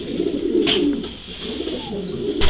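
Long-distance racing pigeons coo softly in a loft, low rolling calls close by, with faint rustling and a brief sharp noise near the end and no talking.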